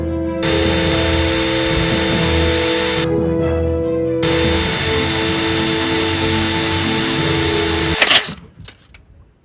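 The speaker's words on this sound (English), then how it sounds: "That's the f***ing drill." Power drill whirring steadily while drilling out a snapped bolt on an Audi A3. The motor note drops out briefly partway through, then runs on and stops with a few clicks and knocks.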